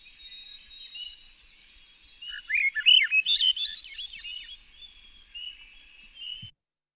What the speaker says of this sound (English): have you listened to this? Because it's a really kind of amazing fluty song, the Swainson's thrush.